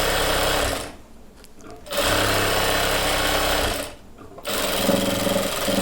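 Sewing machine running in two bursts while stitching a chudidhar pant, a steady close mechanical whir with a short pause between runs.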